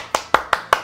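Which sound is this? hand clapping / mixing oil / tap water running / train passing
hand clapping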